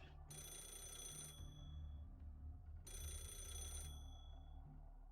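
A telephone rings in the Fate/Grand Order game, two long bursts of bright, buzzy bell tone roughly a second apart, with a steady low music bed running under them throughout.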